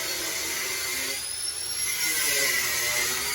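A Peugeot 406 engine running after repair of a compression leak, heard as a steady close mechanical whine and hum with a rising high-pitched tone partway through, continuous and moderately loud without talk.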